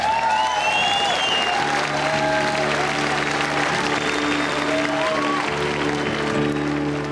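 A concert crowd in Dublin applauds steadily for a guest singer, a dense wash of clapping with a few whoops and cheers over sustained stage music or feedback tones.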